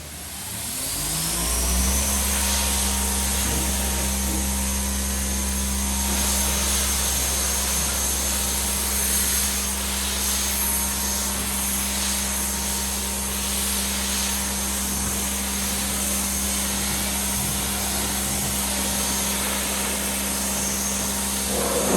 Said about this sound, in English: Now, we just pressure wash it off.